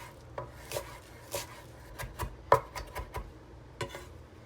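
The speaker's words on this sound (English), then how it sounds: "we're gonna chop up a few mint leaves" A knife chops mint leaves and parsley on a cutting board, a series of quick close taps in uneven bursts, light and crisp, with no talking.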